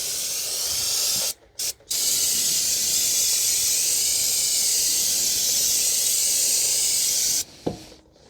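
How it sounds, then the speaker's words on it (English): Brake cleaner sprays steadily from an aerosol can onto the rear brakes of a 2019 Honda Civic 2.0 with electronic calipers, a loud continuous hiss broken by two short pauses early on and a longer stop near the end. "we're just going to wash the area down with some brake cleaner"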